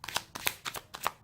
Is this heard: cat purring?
no